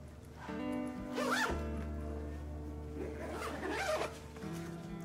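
A zipper is drawn shut on a photographer's camera travel bag in two distinct pulls separated by a pause, close and crisp over a low steady hum.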